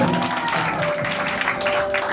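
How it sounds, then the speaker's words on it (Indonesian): Applause from a youth church service congregation, a dense continuous wash of clapping filling the room steadily from start to finish, with some voices mixed in. "Tepuk tangan buat mereka."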